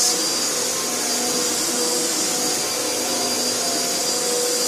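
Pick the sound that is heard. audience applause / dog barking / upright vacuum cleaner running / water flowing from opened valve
upright vacuum cleaner running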